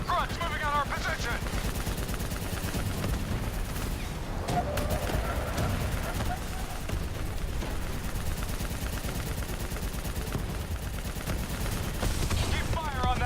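Dense, continuous automatic gunfire in Call of Duty 3 rattles nonstop in rapid bursts, loud and close, with heavy booms and engine rumble mixed in and faint voices underneath.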